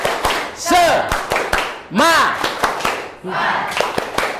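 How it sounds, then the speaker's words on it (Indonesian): Schoolchildren in a classroom repeat the tepuk semangat clapping chant, sharp scattered claps in a loose rhythm beneath loud group voices chanting and calling out, close and energetic. "Ulangi, tepuk semangat."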